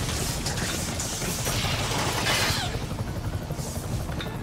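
Helicopter in the video game Marvel's Spider-Man, a loud steady rotor-and-engine roar throughout with mechanical clatter and bursts of action noise mixed in.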